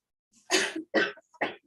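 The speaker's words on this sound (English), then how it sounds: "I understand she's coughing" A woman in a Zoom court hearing gives three harsh coughs in quick succession, close to the microphone and clear against silence.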